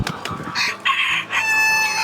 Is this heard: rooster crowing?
yes